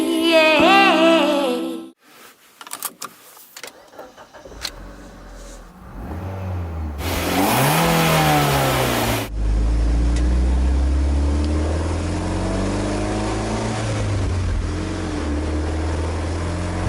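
After a few faint knocks, a Mitsubishi Lancer Evolution Final Edition engine rumbles up and revs sharply, then settles into a steady, sustained drone at close range.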